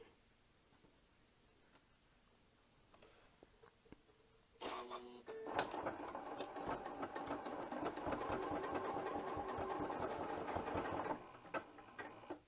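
A Janome sewing machine stitches a hand-look quilting zigzag at a long stitch length, starting with a brief burst and then running steadily as a fast mechanical clatter, close and alone with no talking.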